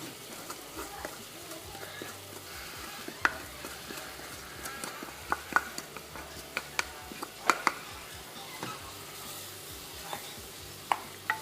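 Herbs tossed into a hot pan, sizzling steadily with scraping stirs and sharp clinks of a utensil, close by and fairly loud.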